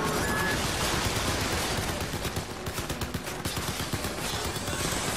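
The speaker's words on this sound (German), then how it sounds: "die schießen ja alle" Dense, sustained automatic gunfire from enemies in the video game Crysis 3, a near-continuous loud fusillade of overlapping rapid shots with a few sharper bursts midway.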